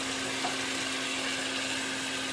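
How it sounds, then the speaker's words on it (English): Chicken curry ingredients with turmeric and black pepper frying in a pan, giving a soft, steady sizzle close by with no talk over it. "Fry them together."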